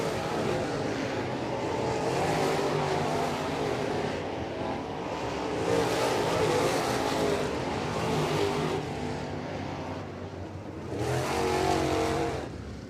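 Crate race cars rolling past at the end of a dirt track heat race, engines swelling and fading in several close passes, with loud roars and brief lulls between cars.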